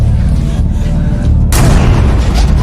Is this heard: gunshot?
yes